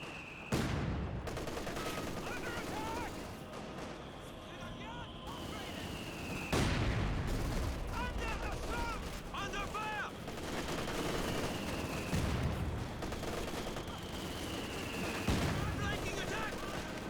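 Gunfire from an MG34 machine gun and mortar blasts in the Company of Heroes strategy game, with repeated bursts and heavy impacts at a few points, all layered under continuous battle noise and a commentator talking.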